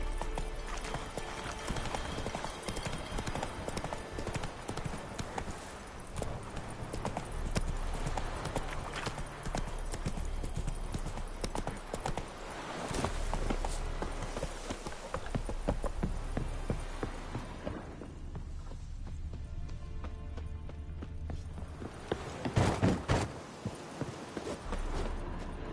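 Roach the horse gallops in The Witcher 3, hooves clip-clopping in a fast, continuous rhythm close up, with ambient game sound underneath and a short flurry of heavier hoofbeats near the end.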